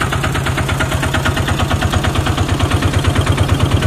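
A car engine idles steadily and loudly up close during a driving lesson, with a rapid, even throbbing pulse that holds throughout and no talking over it.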